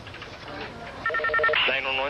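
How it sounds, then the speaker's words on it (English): A telephone rings in a tense rescue situation involving a plane that has lost power: a short burst of rapid electronic trilling pulses, moderately loud, over background noise and muffled voices. "Everybody was waiting for the phone to ring again to see if it would be him"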